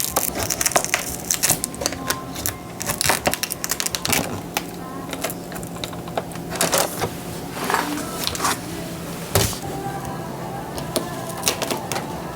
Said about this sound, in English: the hardest part is usually just cutting off this adhesive